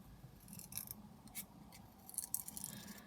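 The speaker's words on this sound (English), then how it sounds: "sometimes it's just hard to think of everything" Scissors snipping a stamped paper butterfly out of craft paper, with quiet irregular crisp cuts and rustling paper close by and no talking.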